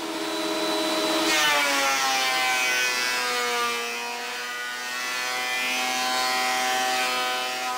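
A power planer flattens a wooden board for a router table stand, a loud continuous whining drone whose pitch dips as the cut loads and then recovers, with no talk.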